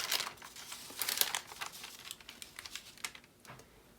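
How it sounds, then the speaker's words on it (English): Parchment paper laid over melted crayon in a crafting project gives off crisp crinkling and rustling in short bursts and taps, close up and fairly quiet, with no voices. "Now I'm going to move my parchment paper over."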